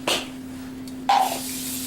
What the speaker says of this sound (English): I spray my pan down as well with a little bit of